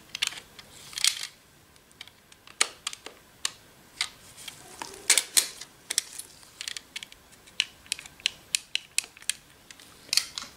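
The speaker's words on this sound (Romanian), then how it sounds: "Tăiem aceste nituri" Sharp snipping clicks come in an irregular series, close and crisp, as rivets are cut on the chip cover of an HP 106A laser toner cartridge, with no talking.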